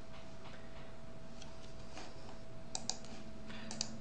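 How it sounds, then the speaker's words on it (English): Someone types on a computer keyboard, faint and irregular, with scattered soft key clicks and a few sharper taps. "Where I am typing my name, go ahead and type your own name"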